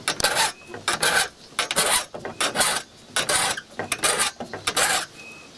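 A hand file rasps across saw teeth in rhythmic repeated strokes, loud and close, each stroke a harsh scraping burst with short pauses between.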